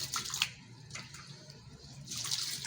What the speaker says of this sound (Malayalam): പണ്ടാരിയാണ് അരി കഴിവണത്